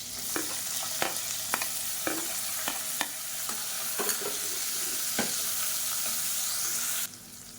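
Onions sauté in oil with fennel, curry leaves and green chillies: a steady close sizzle broken by repeated sharp scrapes and clacks of a stirring spoon against the pan, with no voices.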